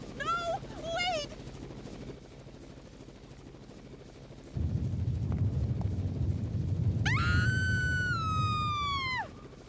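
Helicopter rotor noise in the Raw Danger video game, a steady loud thrum starting partway through and lasting several seconds, with a rising siren-like tone over it near the end and short voice sounds earlier.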